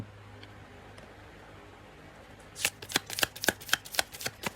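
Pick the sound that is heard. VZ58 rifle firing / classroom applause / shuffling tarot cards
shuffling tarot cards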